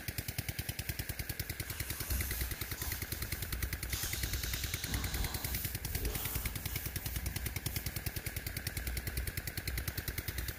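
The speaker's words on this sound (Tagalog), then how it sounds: "yung makina ko pong R180 na made in China at saka matagal na yan" A Chinese-made R180 single-cylinder engine drives a farm implement in a rice field, a loud, steady rapid chugging that holds the same close, even thump throughout with no voices.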